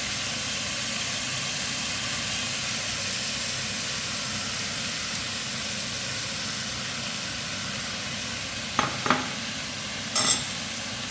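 Broccoli fries over a high flame, giving a steady, even sizzle and hiss that fills the whole stretch. A few short clinks or scrapes of stirring come near the end, with no talking.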